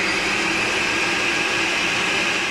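A blender whirs loudly as it mixes one litre of water with golden syrup, a steady dense motor roar that runs unbroken with no talk.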